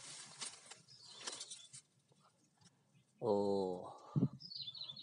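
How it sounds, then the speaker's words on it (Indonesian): A naga satru bird sings loudly and close by: a strong, ringing tonal call of about a second near the end, with soft background chirps and a brief exclamation from a person. "suara burungnya nyaring sekali."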